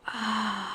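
A yoga instructor draws one audible breath in, a brief airy gasp-like inhale heard close and quiet.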